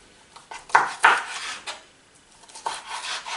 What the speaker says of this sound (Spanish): voy a ir cortando el pimiento y la cebolla.